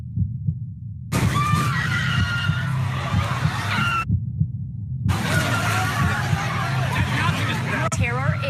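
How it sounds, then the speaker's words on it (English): Crowd chaos at the Charlottesville rally where a car rammed into people: panicked screams rise over a dense, loud wash of shouting and commotion, with a low rumbling pulse underneath and a brief break in the noise midway. "a car has rammed into a crowd"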